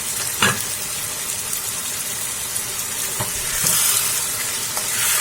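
Tomatoes and onions fry in a pan for paneer masala, a continuous close sizzle broken by a few sharp scrapes of a spoon as they are stirred.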